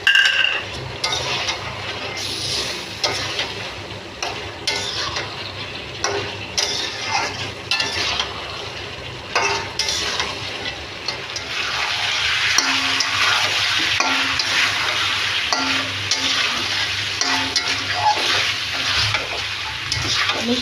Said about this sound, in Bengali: এখন আমি মিষ্টি কুমড়াগুলো দিয়ে আর একটু কষিয়ে নেব।